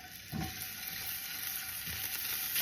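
Minced garlic frying in hot cooking oil in a pan, a steady close sizzle with a brief louder burst near the start, no talking.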